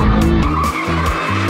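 A modified car drifting with its tires skidding, a loud continuous engine roar with harmonic drone and tire scrub filling the whole stretch, close by.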